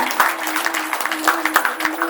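Audience clapping at a district committee anniversary event of a human rights organisation, a steady patter of many hands in a hall, moderately loud and continuous.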